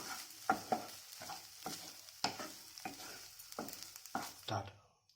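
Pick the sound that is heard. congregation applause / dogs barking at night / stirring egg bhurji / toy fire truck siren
stirring egg bhurji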